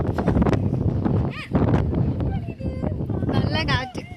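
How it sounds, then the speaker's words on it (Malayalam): Strong gusts buffet the phone microphone outdoors in blowing sand, a loud continuous rumbling roar with brief dips, while a person speaks over it. "നല്ല കാറ്റ്."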